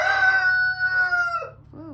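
A rooster crows among chickens in a backyard coop, one long drawn-out call lasting over a second close to the listener, followed by a short softer cluck as it fades.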